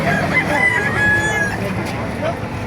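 A rooster crows in a drawn-out call amid a busy chicken market in Baliuag, Bulacan, with clucking fowl and a steady crowd murmur around it.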